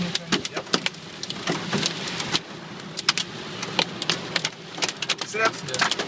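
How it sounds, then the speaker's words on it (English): Hail from a storm in Mandeville, Jamaica, clatters onto a car, giving irregular sharp ticks and taps over a steady rushing background, close and fairly loud. "The white stones falling from the sky. Hail."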